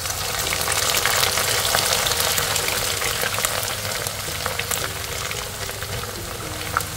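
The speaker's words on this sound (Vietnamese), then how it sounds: "Dầu nóng rồi mình sẽ cho vào mình chiên nha" Loud, steady sizzling of vegetarian pork ribs frying in hot oil, with crackling pops throughout and no talking.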